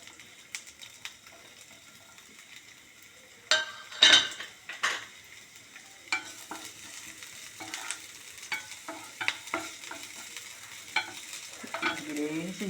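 About ten chopped small onions hit hot coconut oil after a quiet lead-in, with a loud clatter and sizzle, then an ongoing crackle under frequent utensil scrapes and knocks against the pan, with no speech.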